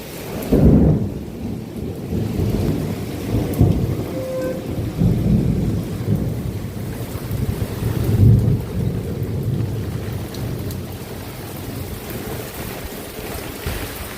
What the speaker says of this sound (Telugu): ఉరుములు మెరుపులతో వర్షం మామూలుగా దంచుకోవట్లా